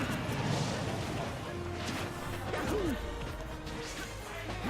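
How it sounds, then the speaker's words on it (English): Up smash attacks land in a tournament Super Smash Bros. match between Mario and Shulk as loud repeated smashing crashes and whooshes over dense game noise and crowd ambience, with a commentator faintly present. "She's gonna come really close with these up smashes."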